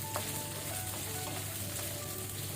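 Onions fry with dried chillies in a pan for a chicken uppu kari, giving a steady, fairly quiet sizzle that holds level throughout, with no voices.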